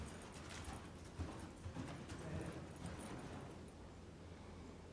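A young colt under saddle lopes on soft ground with muffled, rhythmic hoofbeats that fade as it comes to a stop, faint and somewhat distant against a steady outdoor background.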